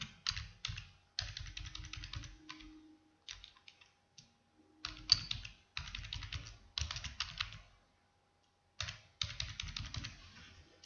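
Text typed on a computer keyboard in MS Word comes as quick close-up key clicks in bursts separated by short pauses, fairly quiet and with no talking.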